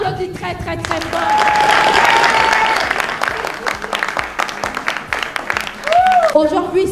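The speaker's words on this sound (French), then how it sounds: "On applaudit très très très fort" Loud applause fills a hall during a TV talent show, a dense wash of clapping heard under and around people talking and a few cheers.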